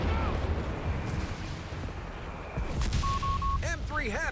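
Anti-tank gun fire in Company of Heroes 3, with booming battlefield rumble running throughout, while radio chatter and beeping tones break in over the last second and a half.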